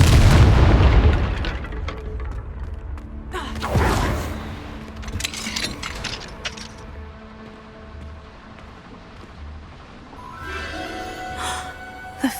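Confringo fire spell in the video game Hogwarts Legacy, a deep booming explosion at the start followed by scattered bursts, crackles and rumbling effects at moderate loudness.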